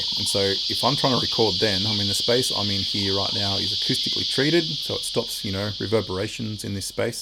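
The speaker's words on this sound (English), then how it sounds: "these little insects called cicadas come out," Cicadas buzzing outside, a steady high-pitched insect drone running continuously under close indoor speech by a man.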